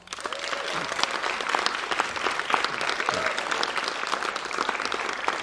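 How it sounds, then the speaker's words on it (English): A concert audience at a music competition performance bursts into big applause, loud, continuous clapping from many hands with faint crowd voices mixed in. "Okay, please, just huge applause"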